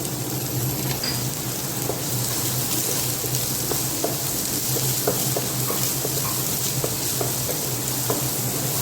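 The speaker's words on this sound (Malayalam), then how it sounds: "അതിനുശേഷം നമ്മൾ അരിഞ്ഞു വെച്ചിരിക്കുന്ന സവാള അത് കൂടെ ഇതിനകത്തോട്ട് തട്ടിയിട്ട് വരട്ടിയെടുക്കുക" Chopped onions sautéing in a pan for gobi manchurian, a dense continuous sizzle close up with scattered stirring taps and crackles throughout, no voices.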